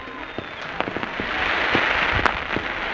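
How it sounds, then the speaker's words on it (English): A homecoming fireworks show at Papillion LaVista, with scattered sharp bangs and crackling pops at moderate distance over a steady crowd murmur and light chatter nearby. "watching the fireworks."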